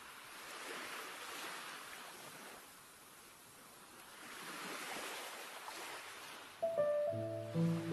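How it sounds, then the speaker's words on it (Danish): Ocean waves roll in under a stormy sky, a broad washing surge rising and falling in slow swells, faint and distant, with a brief tonal chime near the end. "nu rullede bølgerne højere og højere under en truende himmel"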